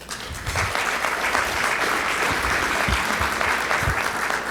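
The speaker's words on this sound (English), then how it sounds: "Give her a round of applause." A room full of people at a Rotary club meeting gives a steady round of applause, dense even clapping that holds at a constant level throughout with no talking over it.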